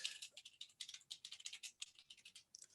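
Rapid typing on a UK-layout computer keyboard, a dense run of light clicky keystrokes with brief pauses, close and fairly quiet, no voices.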